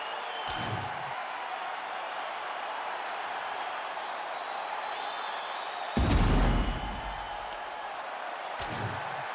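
Arena crowd at a UFC fight cheering and applauding in brief loud bursts over a steady roar of background crowd noise, with one stronger swell midway.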